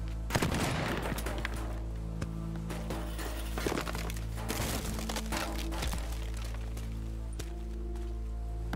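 Shotgun blasts boom repeatedly in Teardown, loud, close and irregular, with crackling debris and crumbling destruction filling the gaps between shots.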